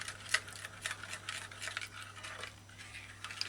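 A spoon stirs soursop juice milk drink in a cup, giving soft, irregular clinks and scrapes over a few seconds, fairly faint and close, with no talking.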